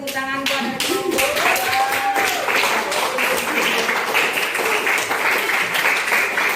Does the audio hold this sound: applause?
yes